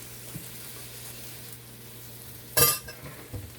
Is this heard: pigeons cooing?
no